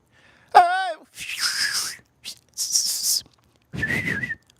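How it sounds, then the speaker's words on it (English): A man gives a short melodic whistle with a rising and falling pitch, close and clear, followed by breathy exhalations and pauses, during a live steak cooking and tasting stream. "He does a little Mexican whistle."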